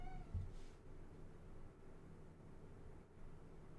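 A cat meows once near the start, short and fairly close, then only a low, steady room murmur fills the rest, with no talk.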